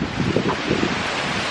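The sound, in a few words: wind blowing outdoors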